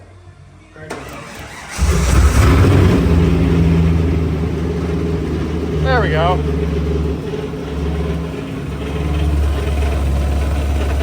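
A Chevrolet Corvette C5 on a cold day, rat-damaged, cranks briefly and then catches into a loud, steady rumbling idle that swells slightly near the end, with a voice talking over it.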